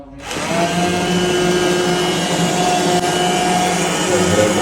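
Mixer grinder whirring steadily and loudly for shahi paneer, starting abruptly and holding a constant high-pitched motor drone throughout.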